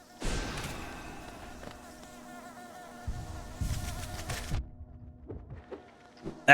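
Bees buzz inside the Hollow Knight video game, a droning hum that swells and fades in bursts, with faint game sound effects between them.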